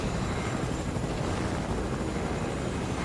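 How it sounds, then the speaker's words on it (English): Helicopter flying in the video game Fortnite, a dense, loud, continuous rotor roar filling the whole stretch with no pauses. "I'm glad that we had this helicopter."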